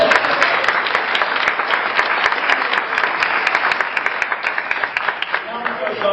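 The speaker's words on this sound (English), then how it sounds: "How about a round of applause?" Convention audience applauds steadily at a town clerk nomination, dense hall-wide clapping sustained throughout with a few sharper individual claps standing out, loud and close.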